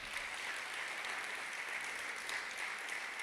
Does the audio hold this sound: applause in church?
yes